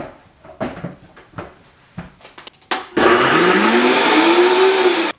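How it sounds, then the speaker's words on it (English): A blender roars loudly and steadily on its highest setting for a couple of seconds after some clattering and handling noises, its pitch rising slightly as it spins up. "my husband left the blender on the highest setting, so I just turned it on and it was like really too loud"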